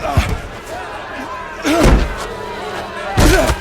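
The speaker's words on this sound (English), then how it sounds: "So they pressed hard against the man Lot, and came near to break down the door." Men pound hard against a wooden door, trying to break it down: three heavy thuds spaced about 1.5 seconds apart, with agitated voices between the blows.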